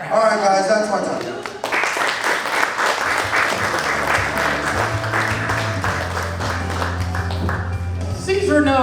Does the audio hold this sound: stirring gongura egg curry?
no